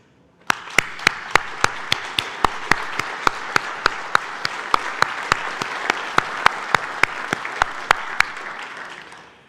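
An audience at a conference event applauds in honour of NATO, a dense sustained round of clapping starting abruptly and fading at the end, with sharp individual claps standing out.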